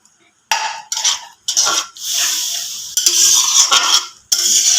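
A spatula scrapes and clatters against a kadai in short, close bursts as the scraped-off residue is stirred into a stuffed pointed gourd curry.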